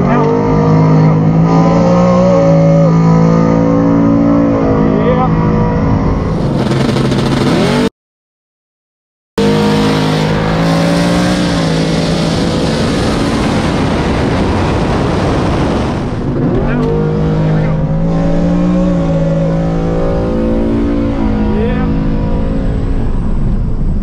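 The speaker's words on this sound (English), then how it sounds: "this is gonna be an actual drag race here" A Tesla Model S Plaid on Nitto tires drag races against AMG cars at a strip. Loud engine roar and rising, revving tones fill the whole stretch, broken by one short silent gap, with cars surging and passing close.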